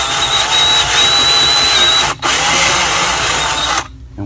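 DeWalt power drill boring into an aluminum hookah piece, a loud continuous whine for about two seconds, a brief stop, then another sustained run before cutting off, with no talking.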